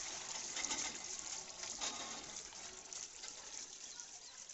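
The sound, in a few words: water being filled for cows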